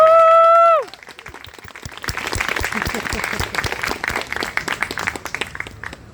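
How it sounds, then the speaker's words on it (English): A sustained synthesized tone cuts off, then warm applause from an audience at a poetry reading event builds and continues steadily, dense clapping with a few louder individual claps near the end. "give a really warm applause for Dalit Marsman Ruiz"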